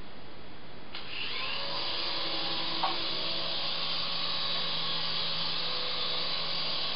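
A small radio-controlled Apache helicopter flies indoors in an apartment, its electric rotor giving a steady, loud, high-pitched whine that holds through the whole stretch at full throttle, with a small knock near the middle.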